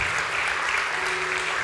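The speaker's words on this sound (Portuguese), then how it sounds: "Pode aplaudir a Jesus, pode aplaudir a Jesus." A church congregation applauds as a steady, dense wash of clapping hands that stays even throughout, with faint voices beneath.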